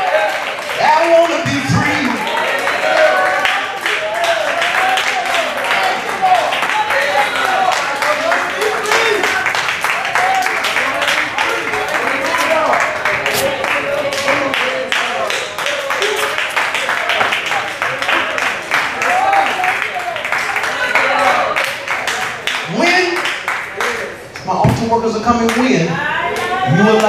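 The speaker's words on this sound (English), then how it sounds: "Come on and clap your hands." Congregation clapping hands steadily during a lively worship service at a church, dense rhythmic claps with voices singing and shouting over them throughout.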